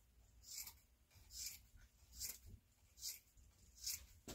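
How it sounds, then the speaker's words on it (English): Several soft, evenly spaced snips as weaving yarn is cut close to the loom reed, each brief and quiet, ending with a sharper knock. "we'll just go ahead and cut it back here close to the reed"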